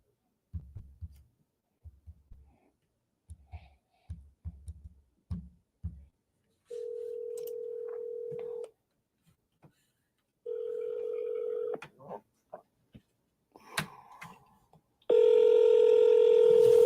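A phone call is dialed: a string of short tone blips, then a steady dial tone, a ringback burst, a few clicks, and a final loud sustained tone.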